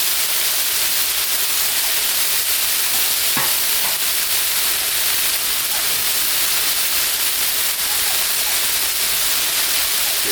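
Pork tenderloin bites sizzle loudly and steadily on a Blackstone griddle outdoors in the rain, with a spatula scraping once briefly as the pieces are spread out, a dense continuous hiss throughout.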